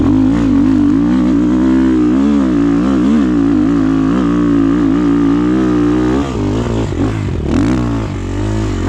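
Rottor Nemesis 250 motorcycle ridden between pine trees, its engine loud and close throughout with a steady droning roar that rises and falls as the throttle shifts, then briefly dips and surges near the end.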